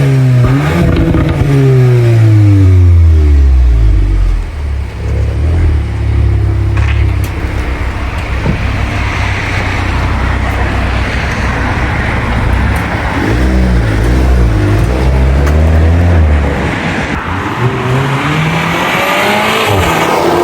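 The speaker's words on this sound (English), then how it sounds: "This car is powered by a 2-liter turbocharged inline-4, pushing 320 horsepower and 420 Nm of torque." A VW Golf R hot hatch with a 2-liter turbocharged inline-4 making 320 horsepower revs hard and loud, climbing through rising gears with repeated upshifts and sustained acceleration, close and with no talking.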